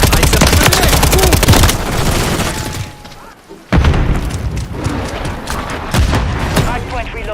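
Grenade blasts and gunfire in an online shooter hardpoint match, with heavy rapid shooting, a quieter lull, then a loud explosion-like burst and renewed fire, while game voice callouts cut in.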